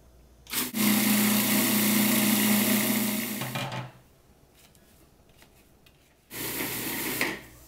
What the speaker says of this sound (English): I'm going to pour in slowly 6 ounces of melted butter or coconut oil, and I'm going to pulse it.